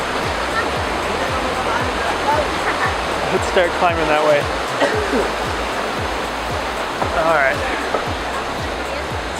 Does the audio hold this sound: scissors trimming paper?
no